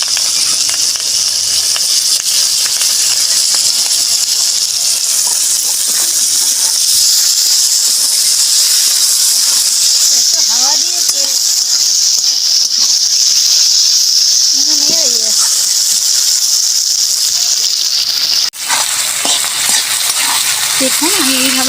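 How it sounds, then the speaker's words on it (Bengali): Taro stolons fry in hot oil after shrimp, giving a loud, continuous hiss that holds steady close by throughout, with a few faint clinks and scrapes underneath. "এই লতিগুলো একটু ভেজে নেব।"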